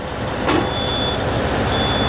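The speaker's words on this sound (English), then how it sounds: "I don't recommend using ether to start semi-trucks." A diesel semi-truck engine started with ether roars close and loud as a broad rumbling wash, with a sharp burst just after the start and a thin, steady high whine running over it.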